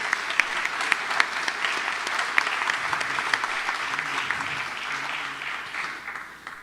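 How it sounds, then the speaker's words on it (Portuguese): A crowd at an ecumenical worship conference applauds for a bishop, several seconds of full, sustained clapping with sharp individual claps standing out, fading a little toward the end. "Um aplauso para o Dom Biazin."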